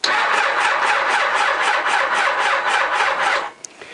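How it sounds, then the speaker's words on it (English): A Honda CBR1000F motorcycle's starter motor cranks the engine in one sustained, rapid, rhythmic whirring burst, loud and close, which stops abruptly without the engine catching. "Choke is on, ignition's on, starter motor, press the starter switch"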